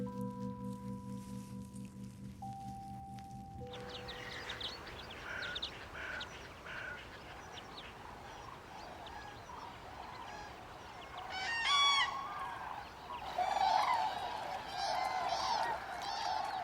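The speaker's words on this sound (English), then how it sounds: "The cranes have just got here from Scandinavia" Cranes newly arrived from Scandinavia call over the lakes of La Brenne, bugling cries in scattered bursts over a steady hiss of outdoor ambience after a brief electronic tone opening.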